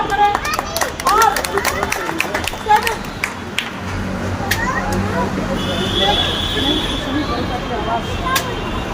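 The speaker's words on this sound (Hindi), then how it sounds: "उनका जोरदार तालियों से स्वागत करें" Audience clapping in welcome at a traders' association gathering in Lucknow, scattered sharp claps at first that settle into a continuous murmur of crowd noise and chatter.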